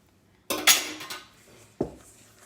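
A utensil clinks and scrapes against a bowl while baking batter of applesauce, eggs and oil is mixed, giving a quick cluster of close knocks followed by one more sharp tap.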